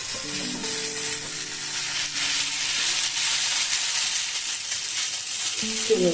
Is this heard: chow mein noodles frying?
yes